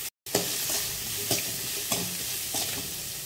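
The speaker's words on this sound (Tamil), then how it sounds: "இப்போது பெரிய வெங்காயம் கட் பண்ணி வச்சுருக்கேன், அதை சேர்த்துக்கலாம். நல்லா இதை வதங்கட்டும்." Large onions sautéing with salt and turmeric in a pan for a flat bean stir-fry, giving a steady close sizzle with a few soft spoon-stirring scrapes and no talking.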